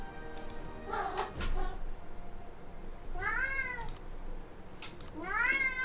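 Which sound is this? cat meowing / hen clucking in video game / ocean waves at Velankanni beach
cat meowing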